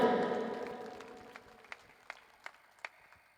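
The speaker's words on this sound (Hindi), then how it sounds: "जोरदार तालियों के साथ हनुमान जी का स्वागत करें" A crowd at a large political rally in Shrimadhopur, welcoming Hanuman Beniwal, gives loud applause that quickly fades away to a few scattered, spaced-out claps.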